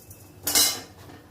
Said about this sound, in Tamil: இப்போ வந்து உளுந்தம்பருப்பு சேர்த்துக்கிறேன்